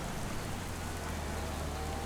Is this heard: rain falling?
yes